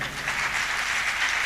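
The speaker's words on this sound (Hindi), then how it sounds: "इमरान सलामत के लिए एक बार भरपूर तालियां।" An audience at a classical music performance gives a short, dense round of even applause with no other sound over it.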